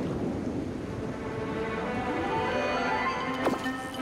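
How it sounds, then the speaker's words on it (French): Thunderstorm ambience in the video game Disney Dreamlight Valley: a steady, loud wash of storm noise with a low rumble throughout, and a sharp thunder crack near the end with no talking. "Vous avez vu les orages au fond?"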